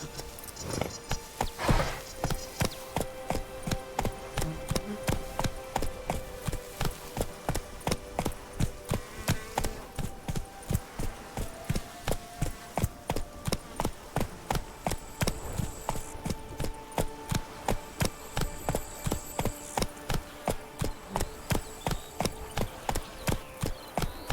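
Horse hooves gallop across The Witcher 3's game world in a steady, fast clip-clop rhythm that runs without a break for over twenty seconds, moderately loud and with no voices over it.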